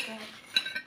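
A metal spoon clinks lightly against a dish a couple of times while noodles are being eaten, a brief, close, quiet tapping with no talk over it.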